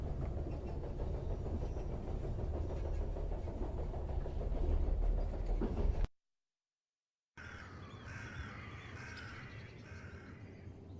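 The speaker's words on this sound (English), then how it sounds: "The train's stopping." A train in The Charnel House Trilogy game rumbles loudly and steadily as it comes to a stop, then cuts to silence before quieter ambient noise with faint high bird-like calls.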